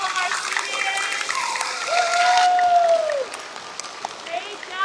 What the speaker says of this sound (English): One last round of applause for all of our students.